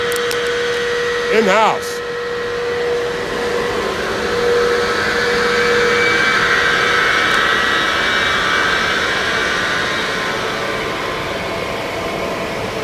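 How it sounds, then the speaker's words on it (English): A large milling machine cuts a gantry on a Japanese factory floor, giving a steady loud mechanical drone with a whine, under someone talking and a brief beeping chirp near the start. "behind me, they're milling a gantry"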